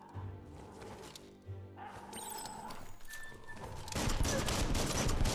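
Gunfire in the Biomutant video game, with bursts of rapid shots building into a dense, loud fusillade that fills the last seconds, over game background sound.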